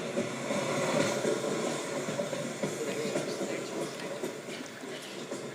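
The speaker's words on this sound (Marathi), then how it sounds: "ट्रेन आता मुंबईला पोहोचत आहे." A train sound effect plays during a school annual gathering play, a continuous rumbling, hissing roll with faint clicking that holds steady and fades slightly toward the end.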